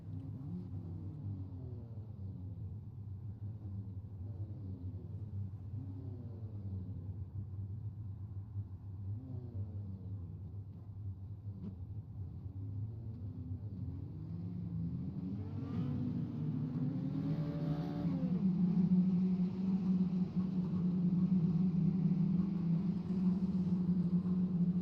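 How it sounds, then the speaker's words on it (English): Dirt rookie mini stock race cars idle and rumble on pace laps at a speedway, a steady low engine drone that swells louder near the end as the field picks up speed. "As the pace truck pulls away to lead these guys on their pace laps"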